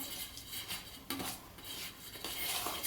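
A spoon stirring rava idli batter of semolina and yogurt in a bowl, with close scraping and clinking against the sides in uneven strokes, with no voices.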